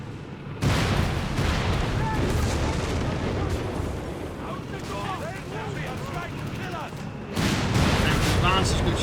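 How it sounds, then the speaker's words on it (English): Artillery fire in Company of Heroes 3 booms and rumbles through a dense battlefield din of gunfire and explosions. A voice talks underneath, and a fresh loud burst strikes near the end. "Artillery fire trying to hold the advance."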